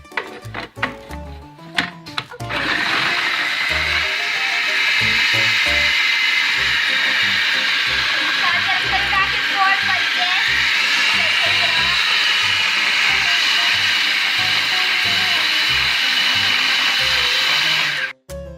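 An electric stand mixer with a side-scraping beater works Nutella hazelnut cookie dough, a steady whirring drone with rhythmic knocks, preceded by a few clunks as it starts and stopping abruptly at the end.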